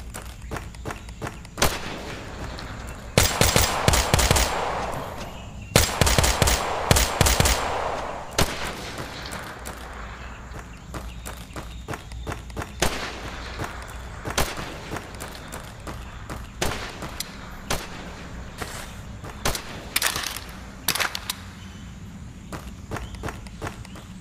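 Gunfire in the VR shooter Tactical Assault VR, with loud bursts of rapid automatic shots early on followed by scattered single cracks and footsteps through the rest of the stretch.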